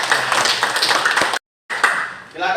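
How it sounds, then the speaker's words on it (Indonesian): Classroom clapping for a student in an Islamic studies lesson, a burst of handclaps that cuts out abruptly, then resumes briefly before fading. "Tepuk tangan buat Aditya"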